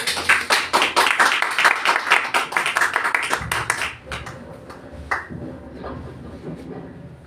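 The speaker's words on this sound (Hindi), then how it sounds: "तो हम अपनी भरपूर तालियों में पास्टर साहब को वेलकम करेंगे" A church congregation at a Sunday service claps together to welcome the pastor, dense and loud for about three seconds before thinning into scattered claps and quieter room sound.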